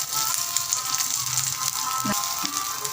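Garlic sautéing in a pan over a medium flame, making a dense continuous sizzle and crackle, with a brief knock near the end.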